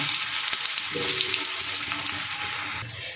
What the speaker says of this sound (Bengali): এবার আমি প্রথমে আলুগুলো ভেজে নেব, মিডিয়াম আছে, একটু এই লবণ আর হলুদ দিয়ে আলুগুলো লাল লাল করে ভেজে নেব।